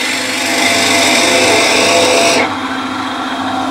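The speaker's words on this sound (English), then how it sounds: "now what we're going to do is drill a hole, and I'm using here 10 mil drill bit" Power drill boring a hole with a 10 mm bit, a loud steady whine that drops to a lower, quieter hum as the speed eases off partway through, close by with no talking.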